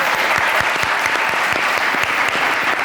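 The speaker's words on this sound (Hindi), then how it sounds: "जोरदार तालियां" Studio audience on a television talk show breaks into steady, enthusiastic applause, a dense burst of many hands clapping that fills the room close by.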